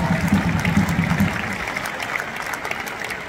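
Crowd applause with dense clapping at a Sturm Graz 2023 cup-winners celebration in Graz, loudest at first and then gradually thinning, with voices mixed in.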